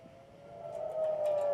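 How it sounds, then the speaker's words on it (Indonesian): An Israeli military air raid warning siren wails as a steady, faint tone that slowly swells in loudness, heard briefly at a distance with no voices. "Sirine peringatan dibunyikan militer Israel saat Iran meluncurkan serangan rudal."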